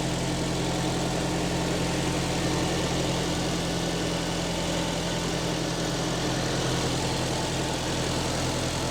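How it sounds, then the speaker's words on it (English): A 1994 Nissan Silvia S14 with its SR20DET engine idles from a cold start, a steady, smooth, low hum that stays even and unbroken throughout, close and loud with no voices. "I'm not too sure how much is picking up of the engine noise, but it sounds really good"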